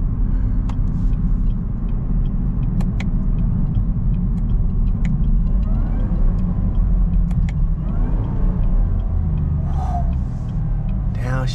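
A Chevrolet Camaro ZL1 accelerates hard, its engine a loud, continuous low roar from inside the car, with a rising note and a brief gear change near the end.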